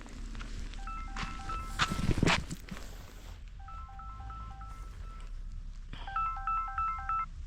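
A mobile phone ringtone plays outdoors during a walk through a village, a repeating electronic melody that sounds in three bursts over steady background noise, fairly faint, with no talking.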